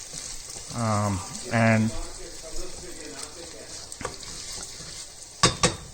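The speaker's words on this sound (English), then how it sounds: "let this moong dal fry a little bit" Moong dal fries over low heat in a pan with curry leaves, hing and broken green chilies, giving a soft steady sizzle with a few clinks of a stirring spoon near the end; a voice speaks briefly at the start.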